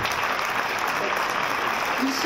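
Steady audience applause at a French evening broadcast welcoming the chef Michel Roth, a dense, even wash of clapping that fills the whole short stretch, with a hint of voices mixed in.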